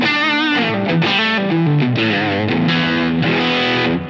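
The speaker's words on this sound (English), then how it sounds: "There's something I really like about the distortion quality of this amp." Loud distorted electric guitar through a Line 6 Helix amp model, playing a sustained riff of chords and bends, thick and saturated with steady volume throughout.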